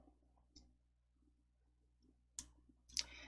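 A few sharp computer mouse clicks, sparse and close, the last two coming quickly together near the end over a faint low hum.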